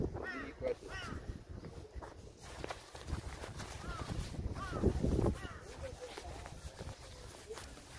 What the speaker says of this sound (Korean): 까마귀 소리.